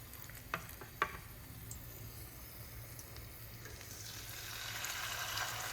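Blended paste for coconut fish curry dropped into hot frying oil, a faint close sizzle with a couple of light clicks early on, the hissing swelling gradually toward the end.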